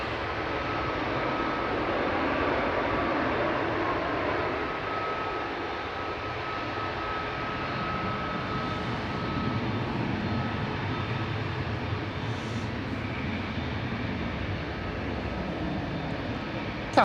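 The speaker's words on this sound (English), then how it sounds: "Ryanair 4928 coming in from Paphos here." Ryanair jet on approach to land at Manchester Airport, arriving from Paphos: a steady, broad engine roar that holds loud and unbroken for the whole stretch, with no talk over it.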